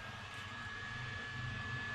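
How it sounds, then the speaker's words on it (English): A heat gun runs during a BMW CCC repair, producing a steady, continuous roaring blow with a faint high whine that holds unchanged throughout. "heat gun"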